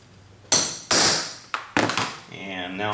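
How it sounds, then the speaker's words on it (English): Four sharp metallic strikes of a small hammer on a center punch, marking a metal aircraft stabilizer rib for drilling, ring out close by at uneven intervals, followed by a brief voice. "Why don't you give me a center punch and a little hammer."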